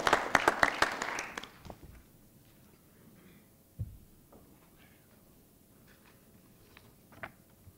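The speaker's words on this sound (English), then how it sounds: "Let's give him a big round of applause." Short round of audience applause at a city council meeting, a quick burst of clapping for about two seconds that stops abruptly, followed by near-quiet room tone with a soft thump or two.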